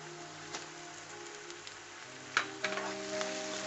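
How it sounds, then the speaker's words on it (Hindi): Onion, tomato and spice masala frying in ghee for Punjabi chana masala, a steady close sizzle with a few louder spatters and stirring clinks, no talk. "और इसे हमें भून लेना है और घी छोड़ने तक करना है"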